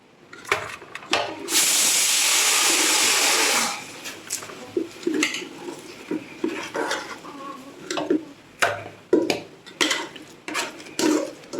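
Tapioca is tipped into a pot and mixed for tapioca biryani, opening with a loud rushing pour and followed by irregular clanks and scrapes of a spoon against the pot, close by.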